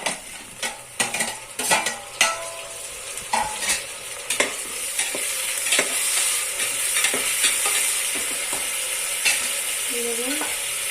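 Onions and tomatoes fry in a pan for chicken biryani, with a sizzle that builds under repeated sharp scrapes and clinks of a spoon stirring against the pan.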